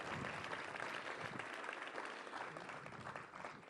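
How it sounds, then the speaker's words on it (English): An audience claps steadily at a groundbreaking ceremony for an ocean technology hub, a sustained wash of applause that tapers slightly at the end. "Give her another round of applause."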